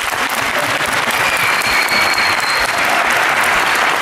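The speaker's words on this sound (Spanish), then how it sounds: "un aplauso para Borja, por favor." Dense, loud applause fills a hall at the Madrid Fusion 2015 culinary event, a steady wash of many hands clapping at once, unbroken throughout.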